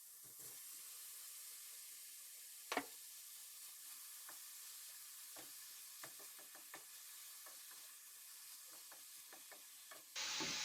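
Beef and bell pepper sizzle in a pot for a Mapuche stew of ngülliw (pine nuts), giving a soft continuous frying hiss with scattered crackles and pops and a louder burst near the end.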